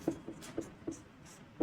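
Chalk or marker taps and strokes on a classroom board in a short, faint series of evenly spaced marks, with no talk over them.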